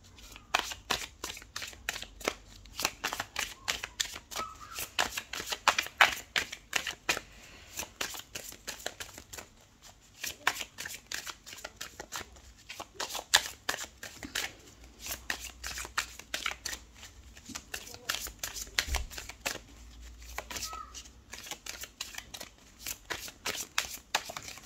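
Tarot cards being shuffled and cut by hand, a long run of crisp riffling bursts with brief pauses between handfuls, close and fairly quiet throughout.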